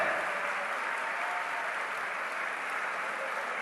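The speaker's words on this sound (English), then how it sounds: "Huge round of applause for all the interfaith leaders." Sustained, even applause from a large audience at a world peace and harmony gathering in Mumbai honoring interfaith leaders, a broad continuous wash of clapping with no speech.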